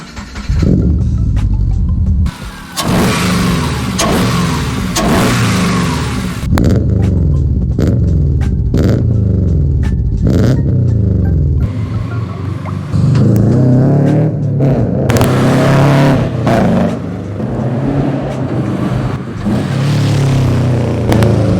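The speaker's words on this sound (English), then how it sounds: "It's purely just for the induction noise." Turbocharged 2004 Subaru Impreza fitted with an RS Weapon cold-air intake, engine revved repeatedly in loud throttle blips with rising and falling induction roar, close up and with no talking.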